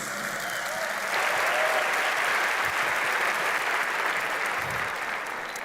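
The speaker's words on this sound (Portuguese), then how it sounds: "Por favor, uma salva de palmas" An audience claps to welcome Ciro Gomes at the Expodireito Brasil event, a loud, sustained wash of applause that swells after the first second and holds steady, with a few faint voices underneath.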